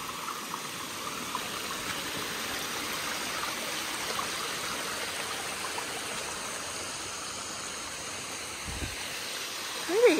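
Steady rushing roar of Mountain Falls, a waterfall on the Appalachian Trail, heard close and continuous for the whole stretch, with a brief light knock near the end and no talking.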